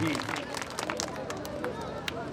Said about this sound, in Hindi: एक बार घनघोर तालियां बजा दीजिए